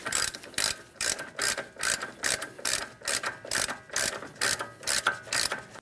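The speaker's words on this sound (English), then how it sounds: "as we start installing our axle nut, I'm using a hand tool, never an impact tool" A hand ratchet clicks in quick repeated bursts while an axle nut is run down onto the rear wheel bearing of a 2007-2014 Ford Edge, about a dozen close, steady rachet strokes with no talk.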